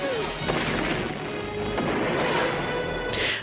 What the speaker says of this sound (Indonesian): Rambo berhasil mengalahkan tentara itu dengan cara meledakkan kapalnya menggunakan rocket launcher